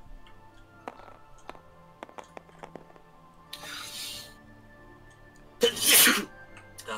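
A single loud, close sneeze bursts out near the end of a tabletop role-playing game session, after scattered light ticks and taps and a softer breathy rush of noise a little earlier.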